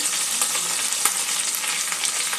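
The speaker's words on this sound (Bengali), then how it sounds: "আদাটাও দিয়ে দেবো। একটু ভালো করে ভেজে নেব।" Grated ginger frying in oil in a pan for a katla fish curry gives a steady, close sizzle with faint crackles throughout and no voices.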